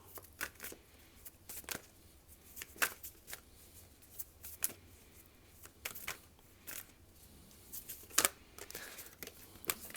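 Tarot cards being shuffled close up, a quiet run of soft riffling flutters and light snaps in irregular bursts, with no talking.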